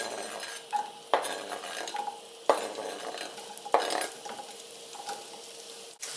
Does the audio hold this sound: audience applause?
no